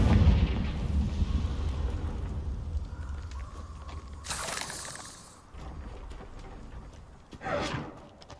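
Confringo blasting spell exploding in Hogwarts Legacy: a loud broadband burst midway through, then a second sharper blast near the end, over a rumbling low background of game ambience.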